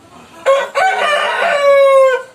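Farm-raised Indonesian chickens of gamefowl breeds, one loud close rooster crow starting with a sharp onset and a brief break, then holding a long drawn-out tone before dropping away.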